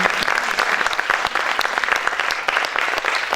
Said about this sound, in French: vous pouvez applaudir notre Miss Picardie